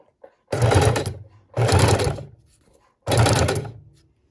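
A sewing machine stitches a boho scrap-fabric junk journal tag in three short, loud bursts of rapid mechanical whirring close by, separated by brief pauses.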